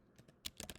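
Quick keystrokes on a computer keyboard as a name is typed into a search field, a short run of crisp clicks building to a busier burst at the end, near and fairly quiet, with no talking.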